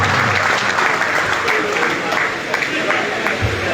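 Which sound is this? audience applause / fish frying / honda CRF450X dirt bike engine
audience applause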